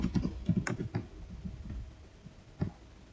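Keys clatter on a computer keyboard as an IP address is entered for a MikroTik router login, a quick burst of close clicks followed by sparser taps and one final firm keystroke.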